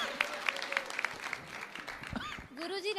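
Audience applause at a guru's question-and-answer gathering, a steady patter of many hands in the room with voices carrying over and through it.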